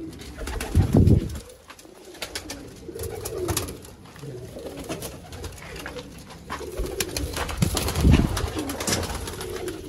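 Sialkoti pigeons in an old wooden coop coo in low, soft rolling phrases, several bursts rising and fading close by, with faint background noise between them.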